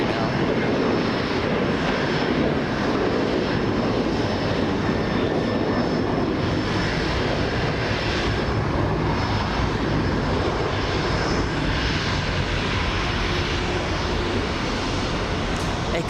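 Speedbird 280 airliner bound for London lifting off from the north side runway at Los Angeles International Airport, a steady, loud broadband jet roar sustained throughout at a distance.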